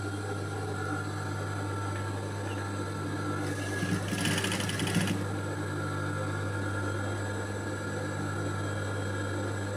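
A sewing machine stitches thread piping onto blouse fabric, its motor giving a steady close hum that swells briefly into a busier, louder whir midway before settling back.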